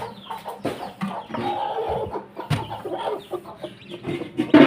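Hens and freshly hatched chicks cluck and cheep close by in an irregular, busy chorus of short calls, with a louder burst of clucking near the end.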